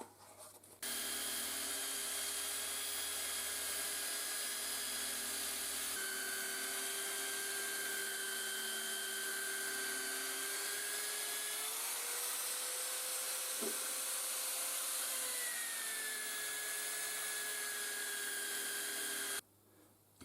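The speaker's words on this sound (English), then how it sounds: "let's do some polishing" An alloy wheel rim spinning in a chuck while being polished, a continuous whirring motor drone with a high rubbing hiss and steady tones that shift pitch partway through, running nearly the whole time before stopping abruptly.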